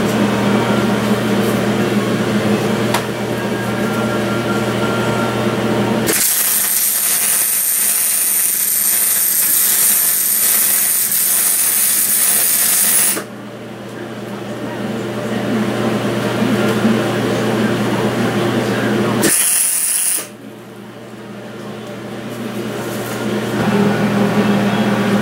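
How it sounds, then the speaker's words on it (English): A MIG welder lays beads on a steel base plate engine mount for a vintage racing go-kart, with loud, steady crackling buzz in long bursts separated by brief pauses over a constant background hum. "So we'll get ready to weld this up here."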